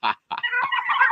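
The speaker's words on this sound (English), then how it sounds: "We're raising a whole bunch of turkeys." Turkeys raised on an off-grid homestead call out at close range: a brief squawk, a short pause, then a continuous run of warbling, gobbling calls with no talking.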